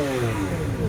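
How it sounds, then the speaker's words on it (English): A Lamborghini Aventador's engine fires up at a car show, giving a brief, loud, close burst of rising mid-range engine roar with no talk over it. "That is Chiro starting up the Aventador."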